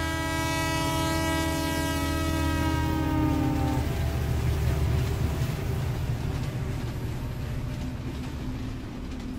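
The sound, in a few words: special steam train rushing past, sound effect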